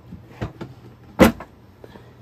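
Plastic clicks and knocks sound as a filament dryer container is opened to load an ABS spool, with a few sharp close handling sounds and one louder snap near the middle.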